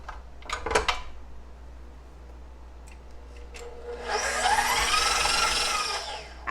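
An electric mixer beats cream cheese pie filling with sour cream in a bowl for a homemade dessert, starting after a few clinks and a pause, then running as a steady close whir.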